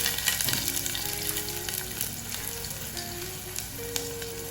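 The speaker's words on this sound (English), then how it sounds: "Add a little oil to the pan, heat it up, then add the chopped onions" Chopped onions frying in hot oil in a pan, a steady close sizzle and crackle with a few faint stirring scrapes and scattered high whistling tones, no voices.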